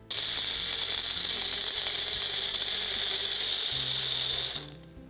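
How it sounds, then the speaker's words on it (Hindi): A kitchen blender grinds ice at home, a loud, steady high whirring buzz with crunching rattle that holds for several seconds before cutting off and winding down. "अब इसमें आप डालिए थोड़ा सा आइस। इसे भी हम ग्राइंड कर लेते हैं।"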